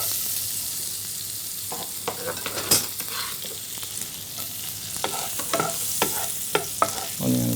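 Garlic frying in oil in a pan, a continuous close sizzle broken by repeated scraping stirs and clinks of a spatula against the pan, with one sharp metallic knock, no voices.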